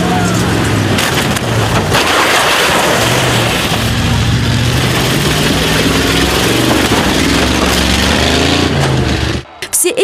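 Bigfoot monster truck engine roaring at a car stunt show, with heavy broadband rumble and crowd noise held steady throughout, cutting out abruptly near the end.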